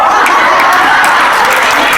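Concert audience applauding at a gospel performance, a dense, steady wash of clapping filling the room with a few cheers and voices mixed in, loud and continuous throughout.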